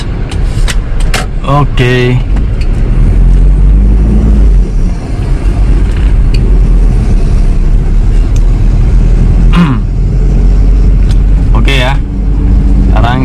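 A 2002 Toyota Kijang LGX 2.0 EFI pulls away in first gear, its engine droning low and close with a few rising surges as it gains speed, under frequent talk from the driver.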